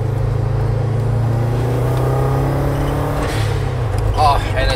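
Car engine droning loudly and steadily with a low hum, then a gear change and a rise in revs; someone talks over it throughout.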